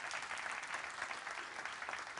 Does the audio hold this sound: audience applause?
yes